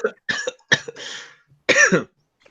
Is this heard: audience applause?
no